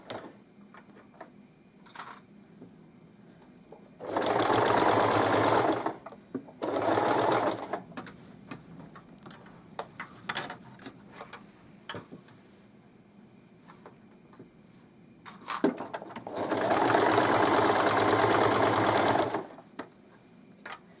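A sewing machine stitches a double-sided baby blanket in three loud close bursts of rapid, steady whirring, separated by quiet gaps filled with faint handling and ticking.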